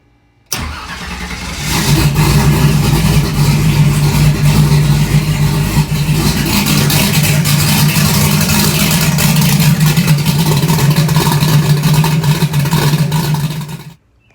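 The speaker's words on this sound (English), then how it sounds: "now the car runs" A car engine cranks, catches and keeps running after its fuel pressure regulator was rebuilt, holding a steady loud idle with a low rumble for over ten seconds before cutting off.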